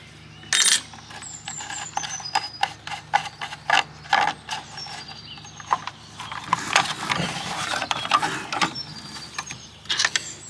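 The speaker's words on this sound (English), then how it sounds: "undo the bolt" Bolt on a Makita 40V slide compound saw being undone with an Allen key: a run of sharp metallic clicks and small clanks at close range, uneven in rhythm, with light handling creaks and no talk.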